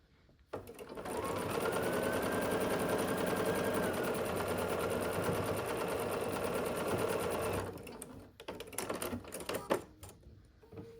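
A sewing machine stitches a seam on a sailboat quilt block. It runs in one long, steady, whirring burst with a fast rattle, then stops and gives a few short stitch bursts with quiet gaps.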